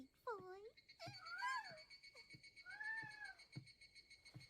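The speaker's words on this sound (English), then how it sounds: "Keep the cat in here" A cat meows several times close by, its calls rising and falling in a drawn-out, wavering pattern, with short pauses and faint background tones between them.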